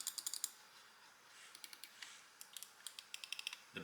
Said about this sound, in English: Good clicking sounds.